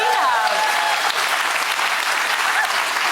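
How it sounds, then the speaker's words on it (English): Talk-show audience applause, a loud burst of dense clapping from a studio crowd that carries on evenly for a few seconds. "Round of applause."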